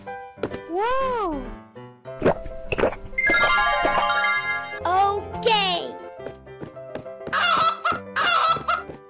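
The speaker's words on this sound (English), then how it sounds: "Chicken." A cartoon chicken clucks in short, squawking bursts amid bright chiming music and playful sound effects, with a voice speaking in between.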